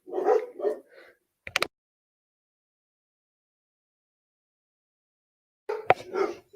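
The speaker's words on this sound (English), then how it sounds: "My dogs are barking at someone at the door." Several dogs bark at someone at the door, with a sharp short burst in the middle and louder barking at the end, heard at moderate distance with long silence between.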